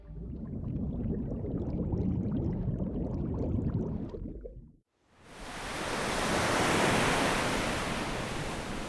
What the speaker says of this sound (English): I work primarily on the ocean wave sound effects.